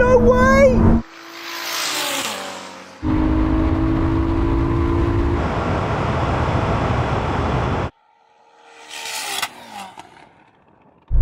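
A Nissan SUV and a Ferrari drag race, heard as loud engine roars and revving in bursts with abrupt cuts and gear-change pitch steps, with people talking over parts of it.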